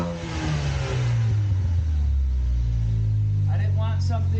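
Car with a DIY upgraded exhaust idling and revving after a cold start, a deep steady low rumble close by, swelling briefly with a rev near the end.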